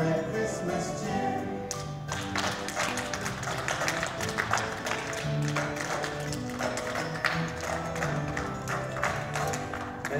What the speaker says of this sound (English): Let's all do a little clapping and spread Christmas cheer.